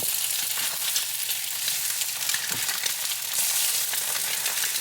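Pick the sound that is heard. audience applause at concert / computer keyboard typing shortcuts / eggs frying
eggs frying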